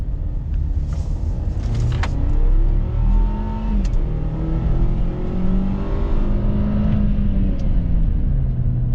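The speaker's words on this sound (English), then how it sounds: "the engine in this car is not as refined. The transmission is not as smooth shifting." A 2020 Volvo XC60 T6 engine pulls hard from inside the cabin, a loud steady rumble whose pitch climbs and dips as the transmission shifts through gears, without any speech.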